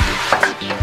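Possum stew with red wine is stirred in a camp oven, a close scraping and swishing of the spoon against the pan over a soft continuous sizzle, brief and alone.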